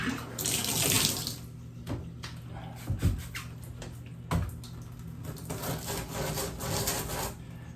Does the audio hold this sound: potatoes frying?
no